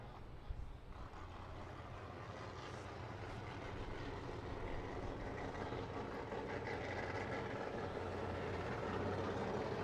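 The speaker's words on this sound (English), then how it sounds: "There goes the drone. I just heard it. Sounds like a swarm of flies." A camera drone flies over a motorsport event at Orange Show Speedway with a steady, droning buzz like a swarm of flies. It swells in after the first second and holds constant, with no talk.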